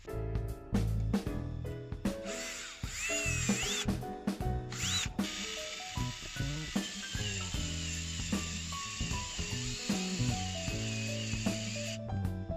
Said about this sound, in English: Put the motor mounting screws back in, but don't tighten them just yet.